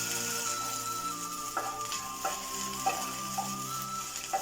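Washed, drained prawns dry-roasting in a hot pan give a steady low sizzle, broken by several sharp stirring scrapes and clinks spaced about a second apart, close and fairly quiet.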